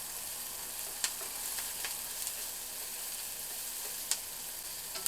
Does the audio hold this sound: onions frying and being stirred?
yes